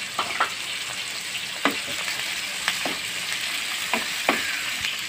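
Green chillies fry with garlic paste and spices in a pan, a steady close sizzle broken by occasional scraping stirs and light clicks against the pan.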